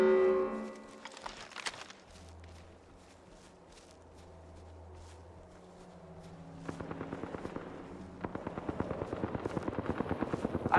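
Gunfire in Apex Legends arena mode on PS5: after a quieter stretch with a low hum and scattered clicks, rapid automatic shots erupt in a steady, fast rhythm, close and loud, building toward the end.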